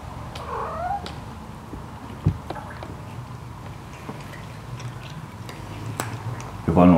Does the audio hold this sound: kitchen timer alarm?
no